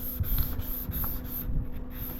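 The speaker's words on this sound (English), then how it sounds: "just gonna scuff this up a bit, make sure it's a nice clean surface" Hand sanding scuffs the painted body surface of a 1973 Buick Century, a close, steady rasping rub in rhythmic back-and-forth strokes, with no talk over it.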